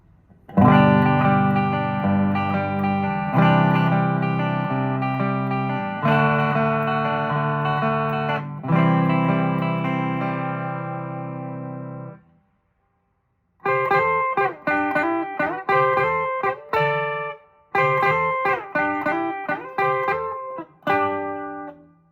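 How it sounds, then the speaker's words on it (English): Distorted electric guitar with a Seymour Duncan SSL-3 Hot Strat bridge pickup in a Squier Classic Vibe plays sustained chords for about twelve seconds, pauses briefly, then continues with choppy, rhythmic picked chords. Warm, thick tone with light reverb, no voices. "Definitely a fatter, fuller sound than a regular Strat bridge pickup."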